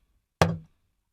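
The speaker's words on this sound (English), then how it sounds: "Um, yeah, we have talking drums at different places." A talking drum sounds a single sharp struck note with a brief falling pitch, close and short, alone in a beat.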